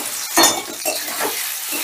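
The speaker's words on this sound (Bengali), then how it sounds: "এবারে এই তেলেই আমি পনিরগুলো ভেজে নেব" Paneer cubes frying in hot oil in a pan, a steady bright sizzle with a few soft clinks of a spatula against the metal, close and fairly loud.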